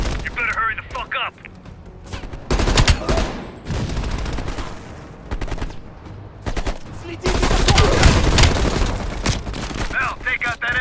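Heavy machine gun fire in a Call of Duty Black Ops Cold War mission, loud sustained bursts with booms and scattered gunshots, broken by short lulls, with voices talking over the battle.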